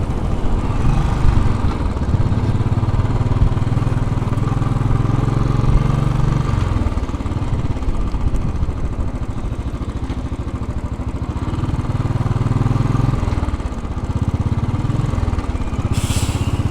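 A Royal Enfield Bullet 500 thumps along Fifth Avenue in New York City, its engine rumbling loudly and steadily as it rises and falls with the throttle, while traffic noise sits faintly underneath.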